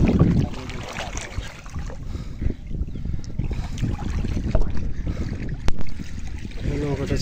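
A boat being hauled up out of a swollen, windy river, with buffeting wind and lapping water, rumbling drags and a sharp knock near the end, voices faintly mixed in.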